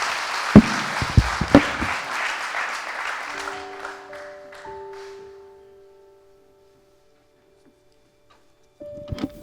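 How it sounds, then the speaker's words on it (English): Audience at a live motivational speaking event in Sudbury, Ontario claps loudly for several seconds, the applause thinning and fading into near silence, with a brief burst of clapping returning at the end. "Give her a round of applause."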